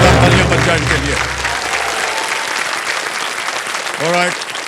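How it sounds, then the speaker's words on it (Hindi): A television quiz show studio audience applauds the contestants with loud, continuous clapping, a low musical tone fading early and a brief voice sounding near the end. "एक बार फिर से जोरदार तालियां बज जाए इनके लिए"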